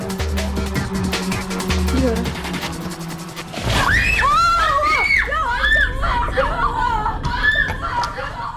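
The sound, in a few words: people screaming in fear in a haunted house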